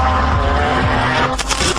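A Lamborghini Gallardo Spyder drives at speed, its engine roaring loud and close with a shifting pitch, a brief rising whoosh near the end.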